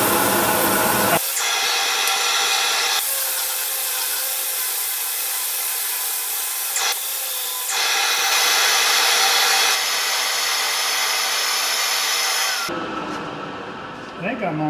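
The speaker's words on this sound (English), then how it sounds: "I'm going to use the palm sander to clean up the wings" A palm sander works over oak wood on a natural-edge turned piece, a loud, steady high-pitched whir with the pitch and intensity shifting as pressure changes, ending in a brief pause.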